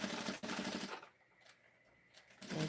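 A sewing machine stitching a thrifted fabric project, a dense whirring run in short bursts with a pause in the middle, close and clear, with no talking.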